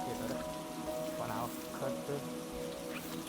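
Steady rain pours over a village in South Gujarat, soaking the farm fields into mud. A close, even hiss of falling drops runs unbroken throughout, with no one speaking.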